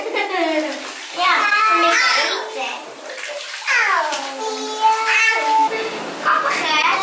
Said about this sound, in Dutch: de kinderen die zitten heerlijk lekker te spelen in het bubbelbad